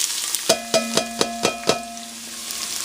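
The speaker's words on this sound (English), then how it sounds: "The oil's hot, so let's get our onions" Onions and garlic frying in hot oil for tomato basil soup, a bright sizzle under a run of six evenly spaced sharp clacks of a utensil against the pan, then fading to a quieter hiss.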